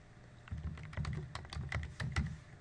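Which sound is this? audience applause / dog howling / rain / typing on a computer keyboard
typing on a computer keyboard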